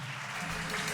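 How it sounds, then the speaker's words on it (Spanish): Applause from a church congregation fills the moment, a dense, even wash of clapping heard at moderate distance with no voices over it. "Dale un aplauso al Señor."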